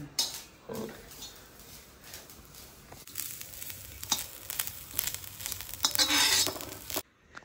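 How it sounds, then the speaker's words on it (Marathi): Grated coconut roasting in a pan for Malvani masala gives a dry, crackling sizzle with intermittent scraping as it is stirred, close and moderately loud, rising near the end before cutting off. "त्याच्यानंतर आपण आता हे शेवटी खोबरं भाजून घेतो"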